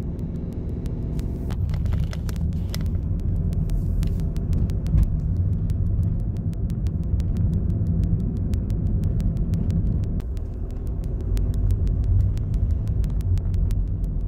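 A car drives through near-deserted Sydney streets in April 2020, heard from inside as a steady, close low rumble of engine and road noise that continues throughout, with no one speaking.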